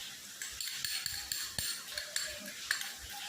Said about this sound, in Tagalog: Ngayon, haluin na natin ito.